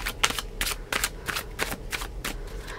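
Tarot cards are shuffled in quick repeated riffles, about eight crisp papery bursts in a steady rhythm, close and fairly quiet.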